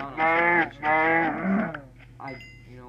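A blocky Minecraft cow moos twice in close, loud, drawn-out calls, followed by a softer grunting moo.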